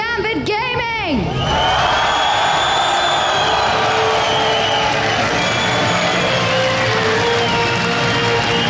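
A loud, sustained roar of cheering and whoops fills an esports arena during a team introduction, swelling after an announcer's voice and holding at full volume to the end.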